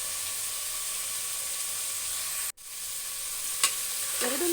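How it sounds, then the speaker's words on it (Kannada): Soaked black-eyed peas and medium-cut potato pieces fry in hot oil with a steady, close sizzling hiss, briefly interrupted by a stir and a faint clink. "ಒಂದು ಆಲೂಗೆಡ್ಡೆನ ನಾನು ಮೀಡಿಯಮ್ ಸೈಜಲ್ಲಿ ಕಟ್ ಮಾಡಿಬಿಟ್ಟು ಆ್ಯಡ್ ಮಾಡ್ತಾಯಿದ್ದೀನಿ."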